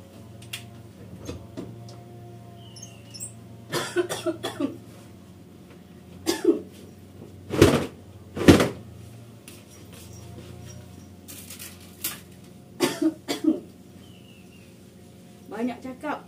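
A person coughs repeatedly after talking a lot at home, sharp near coughs and throat-clearing in several separate bursts over a quiet, steady background hum.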